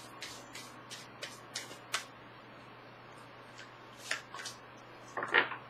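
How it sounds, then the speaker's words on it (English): Tarot cards being shuffled by hand, giving soft riffling bursts and flicks in short clusters at a quiet, close level over a faint steady hum. "Okay, one more shuffle."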